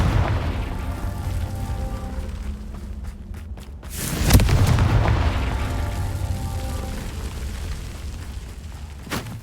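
A Confringo fire spell from Hogwarts Legacy detonates in a heavy booming blast midway, with rumbling explosion noise before and after and a sharp pop near the end, no talk.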